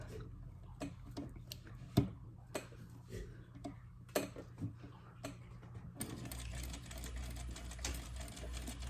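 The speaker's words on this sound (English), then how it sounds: "I'm going to sew that" A sewing machine stitches up the opening of a handmade frog plush, its needle and motor running in a steady mechanical hum broken by sharp taps and clicks, growing denser and louder toward the end.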